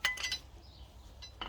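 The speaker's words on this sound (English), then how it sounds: "just take your screwdriver and just tap it here, and just lock it in" A screwdriver tapping an adjuster ring on an Audi adjustable suspension coilover to lock it, giving a few quick faint metallic clinks up close, then a short pause and another tap.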